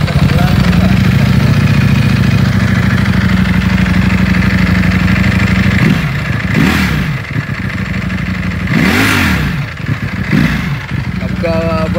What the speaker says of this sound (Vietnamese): Động cơ V4 đặc trưng.